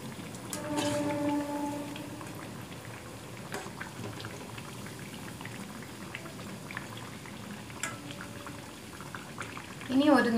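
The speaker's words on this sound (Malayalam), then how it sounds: "ഇതൊരു മീഡിയം ഫ്ലെയിമിൽ വേണം ഫ്രൈ ചെയ്ത് എടുക്കാൻ" Pathiri frying in oil over a medium flame gives a steady soft bubbling sizzle throughout, with a few louder crackles and spatters, and a sharper burst at the very end as a piece is turned or moved.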